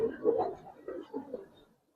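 Giribaz coloring pigeons, a young Musaldom pair among them, coo in soft, low, repeated phrases close by, while someone talks over them.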